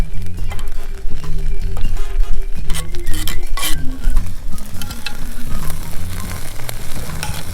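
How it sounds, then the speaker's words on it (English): Butter and mushrooms sizzle in a cast iron pan over an open fire, with a loud, close crackle and repeated metallic clinks and scrapes of stirring throughout. "Melt that butter. Starting to thaw out all these mushrooms here."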